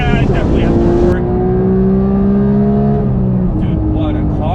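A Porsche GT3 Touring engine revs through a pull, a loud high-pitched wail that climbs steadily then eases off, with a brief burst of voice or noise near the end.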